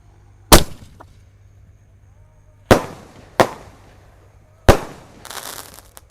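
Roman candle triple-boom shells fire during a holiday night: four loud, sharp bangs spaced a second or two apart, each with a short decay, the last trailing into crackle.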